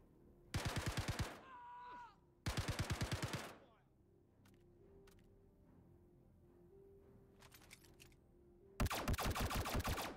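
Automatic gunfire from Star Citizen version 3.5.0u comes in three loud, rapid bursts, the first two close together and the last near the end. A quieter stretch with faint clicks and a brief tone separates them.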